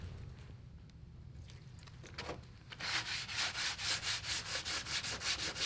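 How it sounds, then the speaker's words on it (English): Sandpaper rubbed by hand over faux patina paint on a motorcycle part, starting with a few soft scuffs, then settling into steady, close, rhythmic back-and-forth rasping strokes. "we're gonna go ahead and put some sandpaper on this and see if the faux patina I put under this is gonna pass the test"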